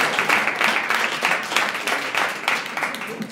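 An audience claps for a short stretch, a dense, fairly loud patter of hands with a slightly uneven rhythm and no talking over it.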